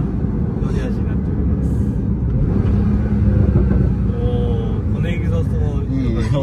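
A 2018 Porsche 911 Carrera T (991.2) accelerates from inside the cabin, its rear engine giving a deep, steady rumble with road noise that stays loud and even throughout, no voices over it.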